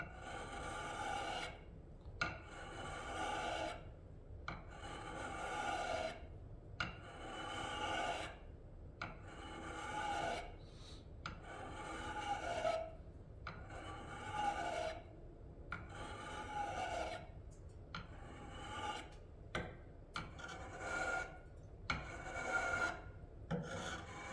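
A hook knife, a small carving blade, is worked against a whetstone in steady back-and-forth rasping strokes, each pass a close, dry scrape with short pauses between, about a dozen strokes repeated alone with no voices.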